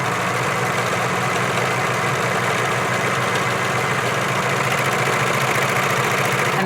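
Serger sewing machine serging fabric, a loud, close, continuous mechanical whir with a fine rapid rattle, running steadily throughout with no voices.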